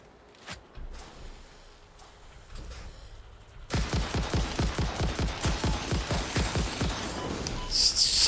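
Rifle gunfire in the video game Satisfactory, a rapid string of evenly spaced shots in steady rhythm that keeps going for several seconds after a quiet start.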